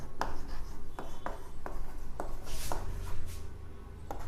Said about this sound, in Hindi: तो लिखेंगे लेट जॉन हैव